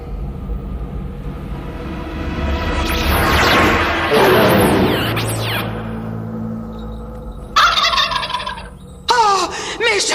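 After a rushing whoosh and crash, turkeys burst into two loud, rapid gobbling calls close by, one after the other.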